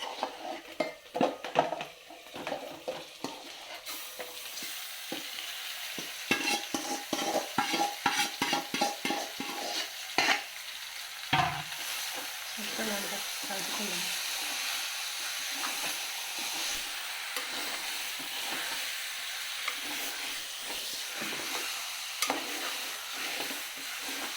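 Chicken frying for chicken bagara rice, with a spoon scraping and clanking against the pot in quick bursts early on, then a steady hiss and sizzle, close by.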